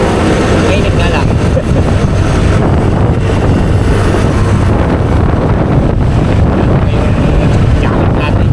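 Strong wind blasts across the microphone in a loud, constant roaring rumble with gusty fluctuations, a voice faintly mixed in beneath the noise throughout.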